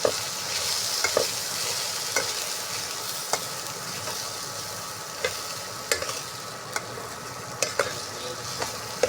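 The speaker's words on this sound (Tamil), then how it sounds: "எண்ணெயிலே வணக்கி வச்சுக்கலாம்" Sliced areca nut frying and being stirred in hot oil, with a steady broadband sizzle throughout and repeated sharp scraping clicks from the stirring spoon against the pan, close and fairly loud.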